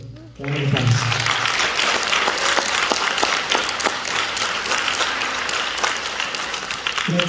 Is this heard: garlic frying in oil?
no